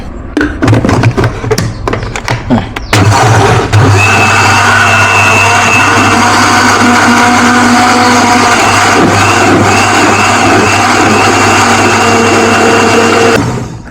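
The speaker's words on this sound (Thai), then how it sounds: "ปั่นให้ละเอียดเลย" A kitchen blender grinds curry ingredients for a Thai jungle curry of bamboo shoots and wild mushrooms. Loud, steady whirring runs unbroken for about ten seconds after a few bumps and clatters of setting up, then stops.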